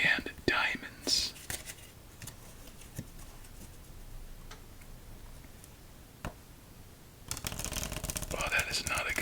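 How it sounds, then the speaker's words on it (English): A deck of playing cards is shuffled in a quiet room: a burst of riffling and flicking, soft ticks and taps through a hushed stretch, then another dense run of card rustling. "that is not a good shuffle"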